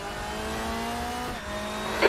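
GT race car in a racing video game pulling out of the pit lane at Brno, a steady engine drone with harmonic tones that shift pitch midway, ending with a brief sharp burst.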